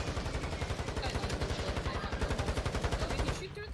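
Gunfire in a Warzone 2 match on Vondel, heard as a loud, steady run of rapid, evenly spaced shots that cuts off just before the end.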